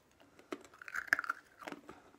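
A person bites and chews a crunchy homemade rosehip-banana biscuit up close, with irregular crisp crunches and snaps over about two seconds in an otherwise quiet room.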